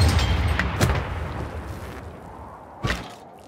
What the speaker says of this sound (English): let's keep firing at these bastards